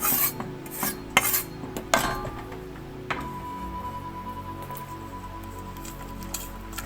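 Hot chocolate whisked in a pan over medium heat, a burst of quick metallic scrapes and clinks up close, then quieter soft stirring and light bubbling, no talking.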